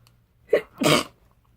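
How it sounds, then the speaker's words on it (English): One person sneezes once, close and fairly loud, with a short sharp intake breath just before the main burst, followed by quiet. "that sneeze has been sitting there for like 2 days"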